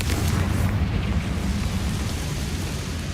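Confringo blasting spell from the Hogwarts Legacy game: a loud, dense rumbling explosion with a deep low-end roar that holds steady for several seconds and slowly fades a little, with no talking.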